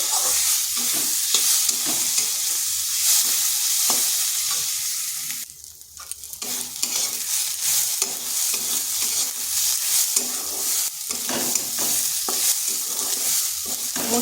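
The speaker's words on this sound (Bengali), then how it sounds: "একটু ভাজা ভাজা করে নিচ্ছি" Washed red lentils (masoor dal) fry in a pan, sizzling continuously while a spatula stirs and scrapes in quick repeated strokes, with a brief dip in the sizzle partway through; no talking.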